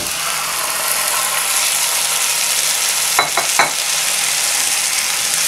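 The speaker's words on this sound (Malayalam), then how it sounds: "ഇപ്പോൾ ഞാൻ ആ മാരിനേറ്റ് ചെയ്ത് വെച്ചിരിക്കുന്നത് മട്ടൻ ഇതിനകത്തോട്ട് ഇടാൻ പോവാണ്" Marinated mutton for biryani fries in a hot pan with a steady, loud sizzle throughout, broken near the end by a few sharp scraping clicks from stirring.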